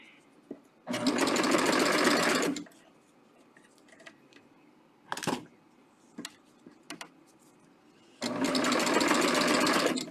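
Serger FB52 sewing machine hemming fabric with a wide flatlock stitch, two loud close bursts of rapid stitching lasting a couple of seconds each, separated by quiet handling clicks and fabric rustle.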